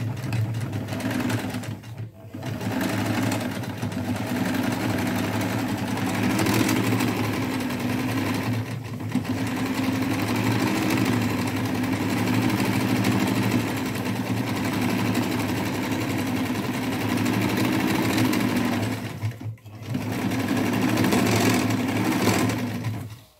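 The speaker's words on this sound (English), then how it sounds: "I removed the pins, and now I am going to stitch this in place." A sewing machine stitching a double pinch pleat curtain: a steady, loud mechanical whir running continuously, broken by a few brief stops before the stitching picks up again, close by and with no talking.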